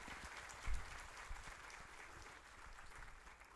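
Audience applause at a World Heart Day event, a soft, distant wash of many hands clapping that stays steady and faint throughout after a brief thump near the start.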